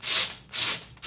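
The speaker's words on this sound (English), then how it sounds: "The rest of imperfections you will remove with a slight sanding." Three rhythmic strokes of sandpaper lightly sanding a wooden model ship deck, close and fairly loud, each a rasping swish with short pauses between.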